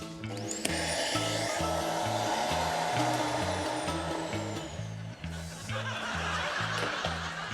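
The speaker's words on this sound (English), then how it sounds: "this vacuum cleaner feels like I could only suck one ball at a time" A vacuum cleaner runs steadily during a TV game-show task, trying to suck up balls. Its motor gives a loud, continuous whine and rushing roar throughout, with rhythmic background music underneath.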